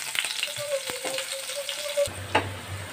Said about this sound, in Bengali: তাই উচ্ছেটাকে আগে একটു বেশ কড়া করে ভেজে সরিয়ে নেব।